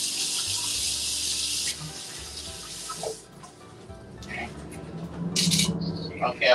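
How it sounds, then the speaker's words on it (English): Tap water rushes steadily in a kitchen while hands are washed, loud for a couple of seconds and then cut off, followed by quieter clatter and small handling noises. "Wash my hands."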